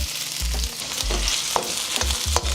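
Onions hitting hot cooking oil in a pan for chicken chow mein, a steady close sizzle with a few sharp stirring clicks and low thumps over about two and a half seconds, no voices.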